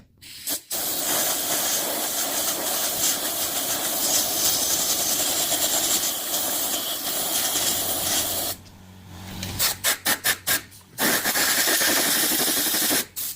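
Compressed air blasts into the torque box of a 1964 XM Ford Falcon, a loud continuous hiss lasting several seconds, then a series of short sharp bursts before resuming.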